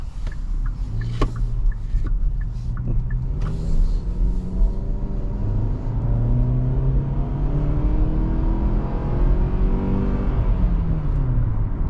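A 2023 Kia Sportage in comfort mode accelerates from inside the cabin, its engine note climbing through several rising pitch sweeps with a shift-like dip, a steady moderate whir and rumble with no talk.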